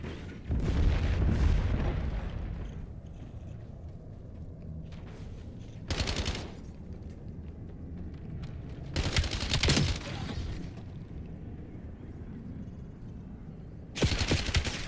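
A frag grenade and gunfire in Black Ops 7 multiplayer, with a dense burst of shooting at the start, then several sharp loud blasts spaced out over the clip.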